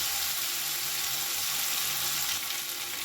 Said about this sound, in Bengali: ভেজে নিচ্ছি